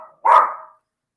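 A single dog bark, loud and close, one short sharp burst standing alone in a quiet room.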